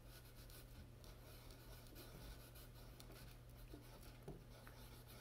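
A Christmas pencil scratches across paper, a faint, close scribbling texture over a quiet background hum, with no talking.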